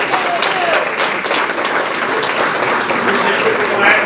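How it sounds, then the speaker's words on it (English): Steady crowd applause at a Black History Month celebration, a dense wash of many hands clapping that holds at an even level throughout, with some voices mixed in. "If we could have a round of applause for Don,"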